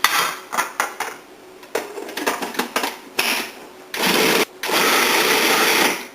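A food processor pulses a cream cheese mixture in a kitchen, with short whirring bursts and clattering stops, then two longer, loud continuous runs of the motor near the end.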